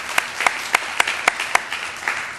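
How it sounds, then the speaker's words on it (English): Applause from an audience for a standing review committee: a steady wash of clapping with several sharp louder claps standing out, no speech over it. "let's give them a round of applause"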